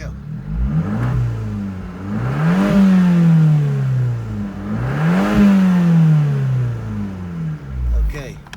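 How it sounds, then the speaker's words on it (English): A 2020 Fiat 124 Spider fitted with a Monza exhaust revs twice in long rising and falling sweeps, loud and close, with a deep engine note between the revs. "this has got the Monza exhaust, so you'll be able to tell right away what that Monza exhaust will do for you"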